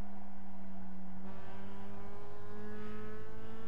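Mazda MX-5 Cup race car engine in the iRacing game, at Lime Rock Park, drones steadily, then jumps in pitch on a careless downshift and over-revs, holding a high strained whine for a couple of seconds.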